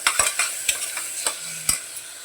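Onion and tomato sizzle in a pan while a spoon stirs them, a constant close frying hiss punctuated by repeated sharp scraping and tapping strokes against the pan.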